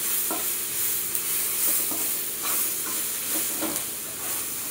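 Onion, tomato and vegetables spiced with garam masala, coriander powder and turmeric sizzle steadily in a pan while a spoon stirs them, leaving occasional soft scrapes over the continuous close frying hiss.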